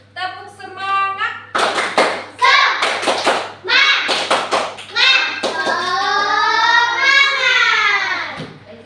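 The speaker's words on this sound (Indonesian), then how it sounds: "Tepuk semangat." A class of elementary school children perform a rhythmic clapping chant, sharp bursts of claps alternating with voices chanting together, loud and close in a classroom.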